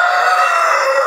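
A rooster crows loudly and close among hens eating grain, one sustained harmonic call that fills the whole moment with no other sound.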